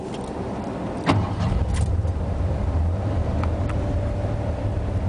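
A 1986 Ford F150 with a fuel-injected 302 engine cranks and fires in cold weather, the start catching sharply at about one second and then settling into a steady, somewhat rough idle that stays close and fairly loud.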